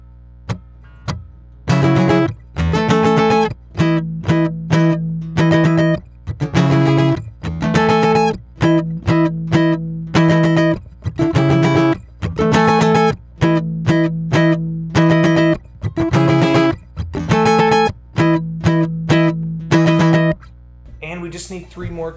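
Electric guitar riff from a song, played in loud, distorted bursts of chords and picked notes with short stops in between, steady and rhythmic, close and without talk.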